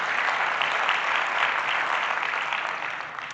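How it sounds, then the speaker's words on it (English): Short round of applause from attendees at a professional directors' meeting in Boston, steady even clapping at moderate volume that tapers off slightly toward the end, with no voices over it. "a round of applause for yourselves"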